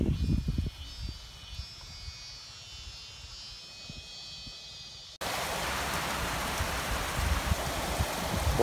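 Rain falling steadily at a home pond during fishing, starting as a faint patter under quiet ambience, then abruptly swelling into a loud, dense hiss of downpour for the final few seconds.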